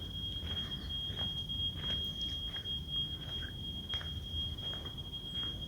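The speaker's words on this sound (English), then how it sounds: "I hear an alarm going off inside" A steady, thin high-pitched electronic alarm tone drones faintly in the distance, muffled as if behind the walls of a house, over low background rumble in a ghost town in Doel, Belgium.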